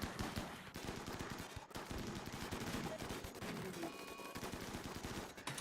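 Automated turrets fire at enemies in the Rimworld colony game, a dense, rapid stream of gunshot bursts and machine-gun rattle that runs almost without pause, fairly faint in the mix.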